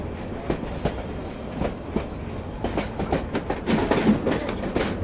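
A passenger train runs through the hills of Rajasthan, its wheels giving a steady clickety-clack rhythm over the rails with faint squealing, heard alone at moderate loudness.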